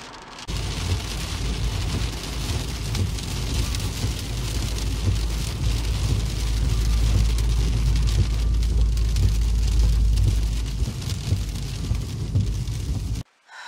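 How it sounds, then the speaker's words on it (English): Steady rain pattering on surfaces outdoors, a dense, even hiss heard close for several seconds before stopping suddenly at the end. "Definitely raining here."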